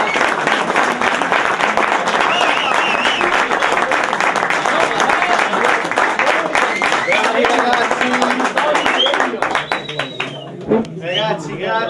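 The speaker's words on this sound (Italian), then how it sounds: "un applauso" Sustained applause from a crowd at a footgolf tour stop at Golf Club Montecatini, loud dense clapping for most of the stretch before tapering into scattered claps and raised voices near the end.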